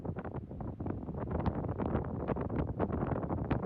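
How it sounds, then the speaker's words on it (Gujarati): Strong wind buffets the microphone at a coastal lookout near Marion Bay in South Australia, a steady close roar with gusty swells and no talk. "પવન બહુ જોરદાર ચડ્યો હતો એટલે."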